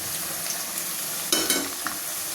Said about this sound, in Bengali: এবার আমি পেঁয়াজ আর রসুনটা একটু অ্যাড করব